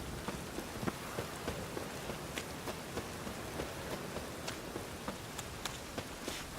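Steady rain from a storm in the video game The Witcher 3: Wild Hunt, a dense, even hiss of drops striking surfaces with faint scattered pattering, with no voices.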